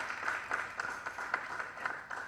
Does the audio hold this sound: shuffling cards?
no